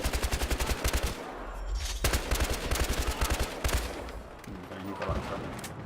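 An SG553 rifle firing in Battlefield Hardline, rapid rhythmic automatic bursts close and loud, broken by short pauses and a few heavier single shots, with someone talking over the action.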